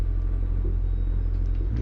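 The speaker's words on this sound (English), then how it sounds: "Another truck, and we just barely fit on this narrow road" A truck rumbles past on a narrow road in American Truck Simulator, a steady low engine drone close by and fairly loud for a couple of seconds, with no talk.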